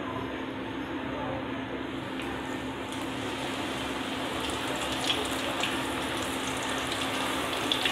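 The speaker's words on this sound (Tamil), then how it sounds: "கொஞ்சம் கொஞ்சமாக ஃபில்டரில் போட்டு நம்ம பொறிச்சு எடுத்துக்கலாம்." Moong dal fries a little at a time in hot oil, giving a steady, close sizzle with a soft bubbling hiss that holds without a break.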